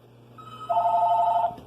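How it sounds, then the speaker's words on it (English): A cordless telephone ringing indoors, a single clear electronic trill that rises to a strong steady tone for about a second, loud and close, alone without talk. "I got a phone ringing there."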